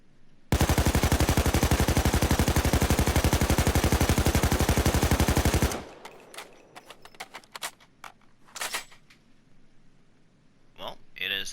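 An AK5 assault rifle in Payday 2 fires one long, loud, rapid full-auto burst for about five seconds. Scattered clicks and handling noises follow, with faint voice sounds near the end.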